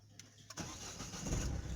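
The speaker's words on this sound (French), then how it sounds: "J'allume la voiture." A Citroën C4 car engine cranks briefly, then catches and settles into a steady idle that grows fuller and louder, heard close and without talk.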